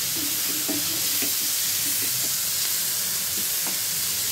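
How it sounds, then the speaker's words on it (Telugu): Turmeric fries in a pan on a low flame, giving a continuous soft sizzle and hiss with a few faint scraping clinks. "ఇది బాగా రోస్ట్ అయ్యేటట్టు వేయించుకోవాలి ఫస్ట్"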